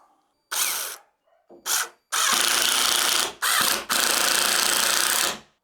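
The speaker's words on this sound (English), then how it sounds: "I can now screw this into place." Cordless power drill driving screws to fasten a deadbolt into a door, several loud bursts of whirring and ratcheting separated by short pauses.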